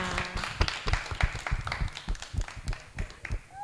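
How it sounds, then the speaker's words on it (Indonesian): A class in a school lesson applauds, with uneven, scattered claps and taps that are fairly faint and irregular and that carry on for several seconds. "tepuk tangan untuk kita semua"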